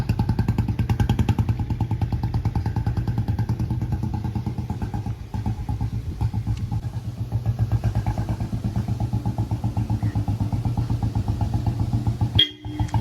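A motorcycle engine idles steadily up close with a rapid, even putter, briefly dipping near the end before picking back up.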